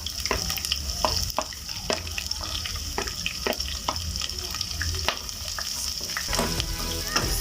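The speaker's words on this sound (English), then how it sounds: "first, always make sure that my oil is hot, very hot, and then I put in my onions." Onions dropped into very hot oil fry with a loud, steady sizzle for a cabbage dish, while a spoon scrapes and stirs the pan in repeated clacks up close, with no talking.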